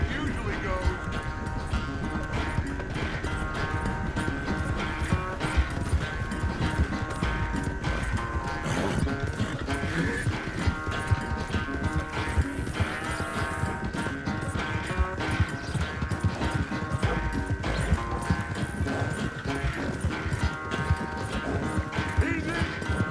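Horse hooves clip-clop at a gallop in Red Dead Redemption 2, a steady rapid drumming that runs the whole stretch beneath dense game music and other sound effects.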